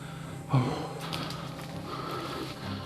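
A man gasps and breathes heavily, loud and close, while climbing a steep, trail-less mountain slope hunting pine mushrooms, with rustling movement and outdoor ambience continuing around the strained breaths.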